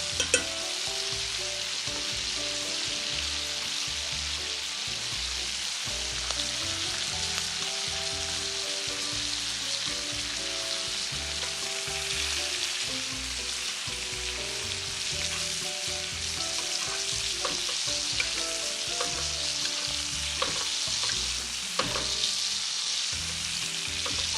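Steaks crackle and sizzle loudly in a hot pan, a dense continuous frying hiss with occasional pops and light stirring noise, close and steady with no talking.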